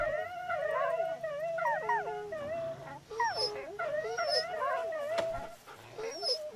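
Dogs in the video game Wasteland 2 howling, whining and whimpering in overlapping, wavering cries, fairly close and continuous with a few higher yips, no speech over them.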